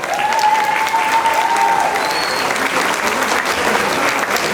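Audience applause for the DJ at a PS party campaign candidate presentation, with steady dense clapping filling the room throughout, a few voices calling out above it.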